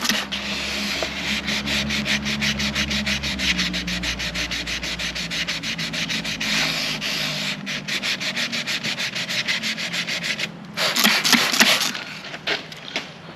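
Continuous rhythmic hand sanding of an outboard motor's primed surface to remove guide coat, close and loud with quick regular back-and-forth strokes and a brief harsher burst near the end.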